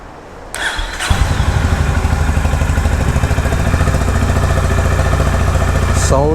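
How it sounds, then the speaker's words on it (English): A Honda Highness CB350 motorcycle engine starts and settles into a steady, rhythmic idle with a deep thumping pulse, close and loud, no talking. "Now I will turn on the engine and make you listen the sound of the engine."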